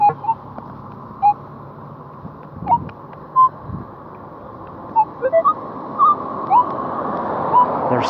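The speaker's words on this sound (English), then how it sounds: "the sound is just great when the main detector hits it" Metal detector sounding over a buried target in a park: short, sharp electronic beeps and warbles come irregularly, about a dozen scattered across the stretch, over a steady low outdoor hum.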